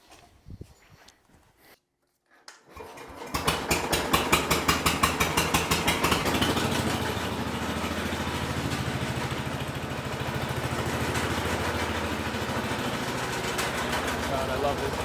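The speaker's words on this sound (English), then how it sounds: "God, I love this tractor." A 1966 Sears Suburban garden tractor engine starts up after a few quiet seconds of faint handling noise, then settles into a steady, rapid idle chug that stays loud and even.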